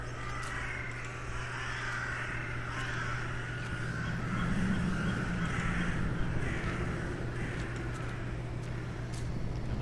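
In the game The Last Door, crows caw in a series of hoarse calls over a steady low ambient hum, faint and alone with no talk.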